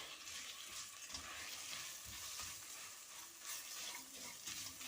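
Rice with jumbo shrimp frying and being stirred in a pan, a steady close sizzle broken by scraping stirs, with no talking.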